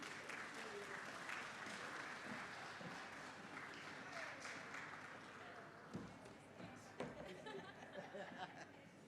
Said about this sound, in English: As we clap,